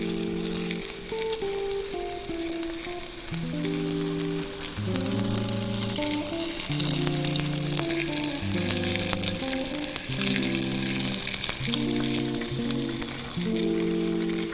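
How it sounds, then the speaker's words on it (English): Boiled squirrel meat fries in a pan with a steady, dense sizzle that crackles continuously throughout. Music with a bouncing melodic line plays over it. No one speaks. "Now since we boiled this meat, it won't take a whole lot of time to cook it."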